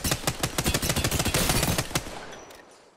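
Rapid automatic gunfire from the video game Apex Legends, a fast burst of about a dozen loud, evenly spaced shots over two seconds, then a short decaying tail.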